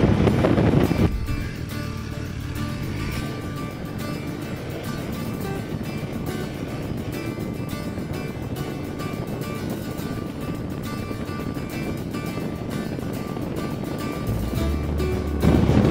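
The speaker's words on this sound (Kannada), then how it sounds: "It started raining. It's actually pouring." Heavy rain pours steadily in a dense, unbroken roar with wind buffeting the microphone, loud and close throughout, rising slightly at the start and end.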